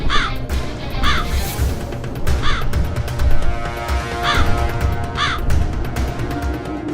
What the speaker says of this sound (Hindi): काक, मेरे वाहन, शीघ्र उपस्थित हो।